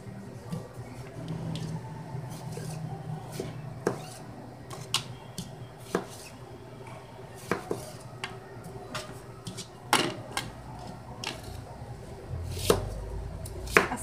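Tomatoes are chopped for salsa verde with a knife on a board, giving a steady series of sharp, close taps with irregular spacing over a low kitchen background and no talk.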